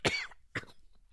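Two sharp coughs close to the microphone, one strong burst followed by a shorter second one, then quiet.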